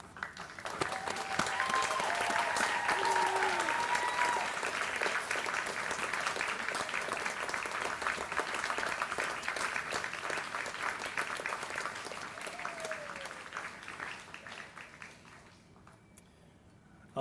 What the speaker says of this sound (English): join me in a round of applause for our